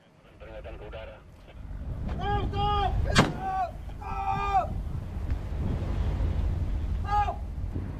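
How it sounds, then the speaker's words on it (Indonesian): Warning shots fired during the capture of a Vietnamese-flagged fishing boat in the Natuna Sea: one sharp, loud crack stands out over engine and wind noise, with other tonal horn or siren bursts nearby. "Tembakan peringatan mewarnai penangkapan ini."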